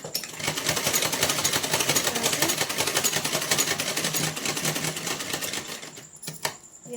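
An electric sewing machine runs in a fast continuous rattle while stitching a small Laddu Gopal nikkar, steady and close, then slows and stops near the end.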